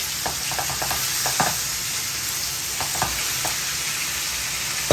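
Fish is laid piece by piece onto vegetables in a hot pan, a continuous sizzle with several soft taps and clinks as pieces are set down, close and with no talk.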